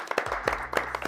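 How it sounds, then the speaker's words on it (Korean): A small group of people claps in applause, a brief flurry of close, uneven hand claps over a low steady hum, with no voices on top. "아직 박수 한번. 박수."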